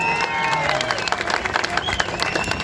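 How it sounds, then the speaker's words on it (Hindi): A political rally crowd claps and cheers for a speech in Aurangabad, a dense, loud wash of applause with shouts mixed in, voices audible through the noise. "ठोको ताली"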